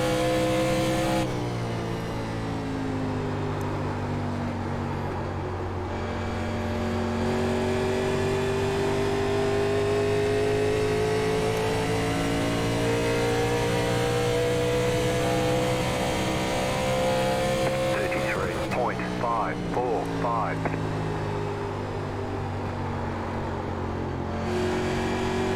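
A NASCAR race car from the 1987 Legends field in iRacing at Nashville Superspeedway drones steadily at high speed on worn tires, its engine pitch rising and falling smoothly, with a brief burst of other cars' engine noise near the end.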